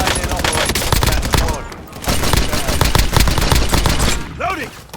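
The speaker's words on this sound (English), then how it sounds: "Taking fire!" Dense, loud gunfire from Call of Duty: Resurgence crackles in overlapping volleys, briefly drops away, then resumes, with game chatter and effects mixed in.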